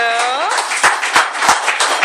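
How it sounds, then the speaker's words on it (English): Audience at a disability dinner claps for the speakers, a few loud, distinct hand claps roughly every third of a second following a sung or drawn-out voice, close and prominent. "let's give one more round of applause to our speakers"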